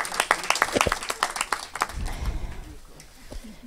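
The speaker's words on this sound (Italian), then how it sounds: "Accogliamola con un applauso." Audience applause at an awards ceremony for a literary prize: a burst of scattered hand clapping fades out over a few seconds, with a voice speaking over it.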